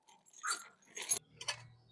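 Several dogs give short, loud bursts of barking and growling close by, in three separated bursts followed by a low steady hum.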